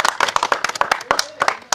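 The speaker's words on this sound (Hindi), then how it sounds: "तालियां तालियां तालियां तालियां तालियां" Clapping at a village sarpanch election gathering in Rajasthan: a brisk run of sharp, close hand claps, some overlapping, with voices mixed in.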